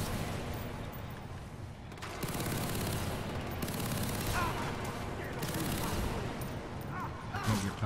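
Gunfire in Far Cry 3 during a firefight, repeated bursts of automatic fire and distant shots in dense sustained waves, loud and continuous, with a voice briefly audible.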